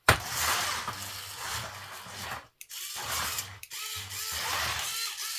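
A modified Hexbug battlebot's servo-driven lifter whirs and ratchets in short mechanical bursts, with brief pauses and sharp clicks between the runs, close and fairly quiet.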